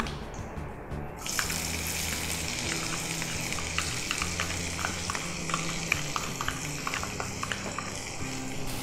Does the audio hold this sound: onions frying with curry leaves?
yes